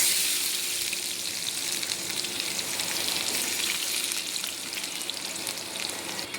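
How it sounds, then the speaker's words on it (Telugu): Chopped onions fry in oil for chicken biryani with a steady, bright sizzle and soft crackle, even and unbroken from start to finish, with no voices. "ఆనియన్స్ మొత్తం గోల్డెన్ బ్రౌన్ కలర్ అయ్యే వరకు అలానే ఫ్రై చేసుకోవాలి"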